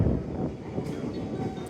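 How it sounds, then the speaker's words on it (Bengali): A train pulling into a station in Japan, a continuous low rumble and rolling noise close by, with faint higher squeals of wheels or brakes above it. "আর ট্রেন চলে আসছে একদম অন টাইম"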